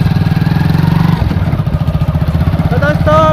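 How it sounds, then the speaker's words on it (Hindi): A motorcycle in a village starts up and revs, a loud close engine chugging in steady pulses, with voices talking over it near the end. "चलो गाड़ी स्टार्ट करो।"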